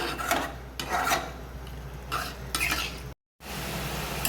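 Yogurt-and-spice marinated chicken is stirred and sautéed in a pan over a medium flame, with repeated scraping strokes over a soft sizzle and a brief break near the end.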